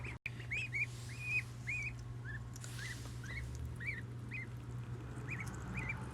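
Ducklings peep steadily in a short string of bright, rising calls while pecking at mealworms, heard close over a constant low hum.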